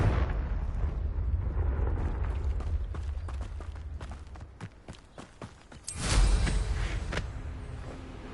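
A Confringo fire spell bursts in Hogwarts Legacy, a loud explosive blast about six seconds in, following a stretch of rumbling game ambience and scattered sharp impacts.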